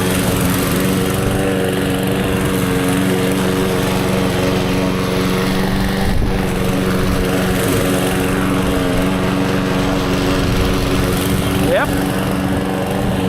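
A petrol lawn mower drones loudly and steadily as it cuts through tall wet grass, its engine hum constant and close for the whole stretch with only slight load changes.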